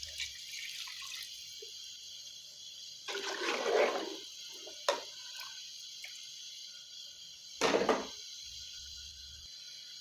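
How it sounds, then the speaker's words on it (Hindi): Water is poured into a cooking pot for beef trotter curry, gushing and splashing in two short bursts, close by, with a quiet hiss in between. "पानी डाल देते हैं इसमें ज़्यादा सारा।"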